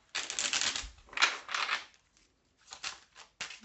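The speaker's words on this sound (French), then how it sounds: "On va faire un tirage à 13 cartes." Tarot cards being drawn and laid out for a thirteen-card spread: quick papery shuffling and slapping bursts, close and fairly loud, arriving in short clusters with brief pauses between.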